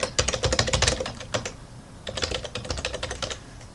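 Quick, close typing on a computer keyboard, a dense run of clicking keystrokes, a brief pause, then another fast burst, with no talking.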